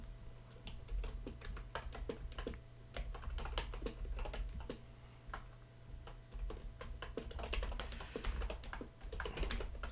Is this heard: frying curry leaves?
no